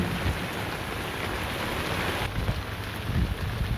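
Steady rain pours down in a dense, even hiss close by, with faint low rumbles underneath and no break in the downpour.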